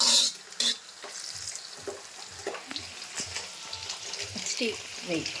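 Whole spices roast in hot oil in a pan for chicken biryani, with close scraping stirs and light sizzling, broken by a few louder clanks of the spoon.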